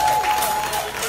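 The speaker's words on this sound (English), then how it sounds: "Let's give Judy a round of applause" Brief burst of crowd clapping at an outdoor praise and worship gathering in Emancipation Garden, St Thomas, dense and fairly loud, with a sustained tone sounding over it.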